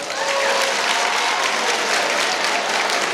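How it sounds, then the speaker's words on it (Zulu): Steady, loud applause from a school assembly audience of matric students during a speech by South Africa's Minister of Water and Sanitation, a dense wash of clapping filling the whole moment without a break. "Ake nishaya ihlombe ngalokho."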